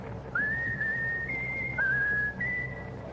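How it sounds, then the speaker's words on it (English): A person whistles the opening phrase of My Country 'Tis of Thee, a clear, steady melody of a few sustained notes with short breaks between them, heard alone and fairly soft. "Now whistle my country tis of thee"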